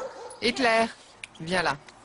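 A pet dog whimpers and yips in two short, high whining bursts close by, with a voice calling to it in between.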